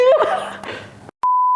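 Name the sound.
censor beep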